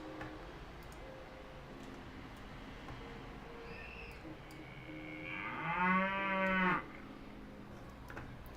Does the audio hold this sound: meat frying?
no